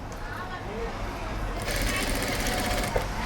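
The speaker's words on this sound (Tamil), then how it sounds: "இந்த தையல் போடுற இடத்துல மட்டும் கொஞ்சம் நல்லா பொடி தையலாக போட்டுக்கோங்க" A sewing machine stitches thread piping onto straight fabric for a blouse, a continuous mechanical whir that grows louder partway through, with a voice talking over it.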